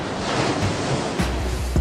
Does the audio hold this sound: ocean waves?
yes